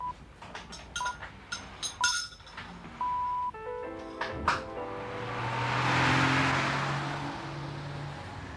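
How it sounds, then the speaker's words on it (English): A company car starts and drives off, preceded by a run of light metallic clinks and taps. Engine noise then swells into a broad rising whoosh that fades gradually as the car pulls away. "Just after 8:30, Suzy set off for work in her company car."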